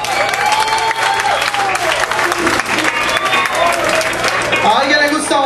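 An audience at a rock concert in a Costa Rica rock café claps and cheers, a loud, sustained wash of applause with shouts and a hum of voices underneath, lasting throughout.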